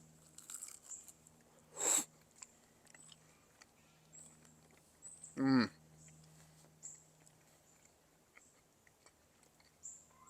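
Two distinct crunchy bites into fried chicken wings, a few seconds apart, close and fairly loud against a quiet background.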